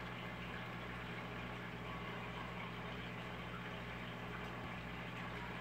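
A car engine idling in a racing video game, a steady low rumbling hum that holds constant without revving.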